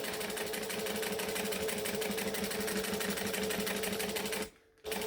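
A sewing machine stitches a quarter-inch seam on a bag, its needle chattering in a fast steady rhythm for several seconds before stopping abruptly near the end, close and clear with no talk.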